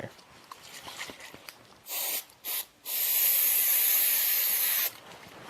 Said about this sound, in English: This time I'm going to use this spray right here.